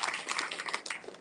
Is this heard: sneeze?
no